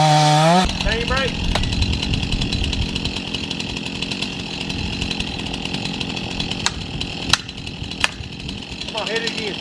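A chainsaw cuts a tree during a tree felling training class, its engine droning loud and steady and close up throughout, with a few sharp knocks near the end and voices mixed in.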